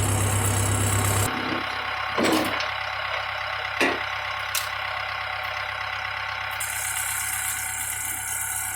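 A Mahindra 2638 compact tractor engine idles steadily nearby while a Bercomac snowblower is detached from its subframe, a continuous rattling drone with a brief louder burst at the start and a few sharp metallic clanks.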